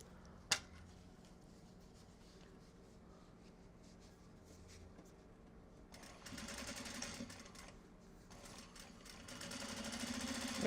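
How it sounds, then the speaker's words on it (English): Sewing machine stitching a small box bag with a pocket, a steady mechanical whir that swells in two longer runs toward the end after a quiet opening, fairly close and with no talking. "there'll be a tack down stitch as well so that the pocket stays in place while we sew the rest of the bag"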